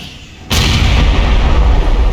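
A grenade detonates in the shooter Aliens: Colonial Marines, one sudden loud close blast that cuts in sharply and trails into a heavy rumbling, debris-filled roar lasting nearly two seconds, with no speech.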